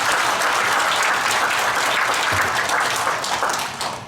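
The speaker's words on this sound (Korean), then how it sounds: "여러분 뜨거운 박수 한번 보내주시기 바랍니다." Dense, steady clapping from an audience at a Buddhist forum event, loud and close, tapering slightly at the end.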